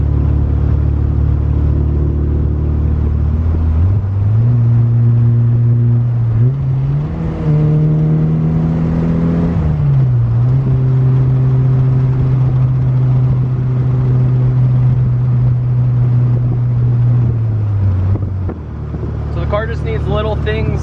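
A 1988 VW Cabriolet fitted with a swapped racing engine runs steadily and loud throughout, its pitch climbing in a couple of revs before settling back to a steady drone, with talking underneath.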